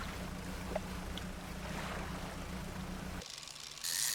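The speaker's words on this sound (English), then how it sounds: "It's just the sound of the boat engine, the water, or whatever you're doing" In the fishing game Dredge, a boat engine drones low and steady beneath washing water ambience, then cuts out suddenly, leaving a brief thinner hiss of wind and sea.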